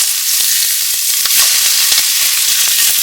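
Food sizzles and crackles steadily in a pan on a Gasmate camping stove, loud and close, with a continuous hiss and fine popping and no voices.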